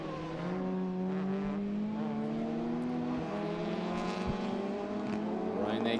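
Ford Fiesta rallycross cars race around the Mondello Park circuit, engines droning and shifting pitch at a distance in a steady continuous roar, with faint commentary underneath.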